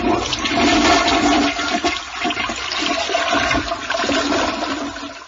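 A toilet flushes loudly nearby, a rushing swirl of water that gurgles and slowly fades as the tank refills.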